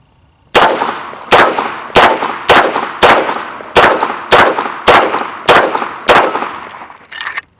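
Pistol shots from a 9mm 1911 at an outdoor range ring out on steel targets, about ten sharp, loud reports each followed by a metallic clang, fired at a steady pace with short gaps between them.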